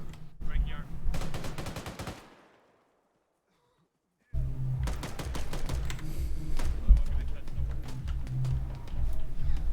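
Rapid bursts of automatic tracer gunfire in a military video game, loud and close, with a sudden silence in the middle before sustained firing resumes, with talk over the shots.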